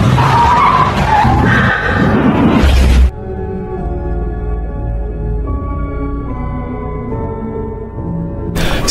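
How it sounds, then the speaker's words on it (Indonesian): Car in a film swerving hard to the left and crashing into a mahogany tree: a loud close burst of tire skidding and impact noise lasting about three seconds, then sudden quiet under soft music. "Brand dengan refleks membanting setirnya ke kiri yang mengakibatkan mobil mereka menabrak tangkal mahoni"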